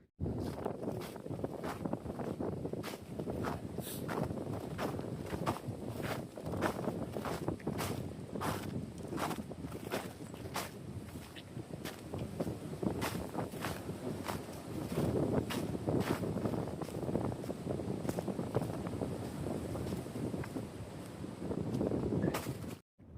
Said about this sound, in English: I'm sorry if you guys can't hear me because of the wind